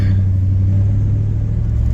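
A 1959 Devin Salerno Special sports car on its first drive in 40 years, with a rebuilt carburetor, rumbles steadily at close range with a deep, constant engine drone and no talk.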